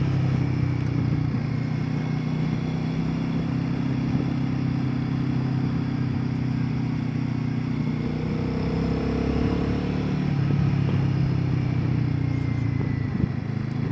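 Royal Enfield Guerrilla 450 motorcycle riding along, a steady droning engine note with a shift in pitch partway through, close and continuous with wind noise throughout.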